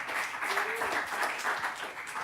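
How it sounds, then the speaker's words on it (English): Brief, faint audience applause after a music presentation, a soft patter of clapping heard from a distance with a short vocal sound partway through. "Big applause"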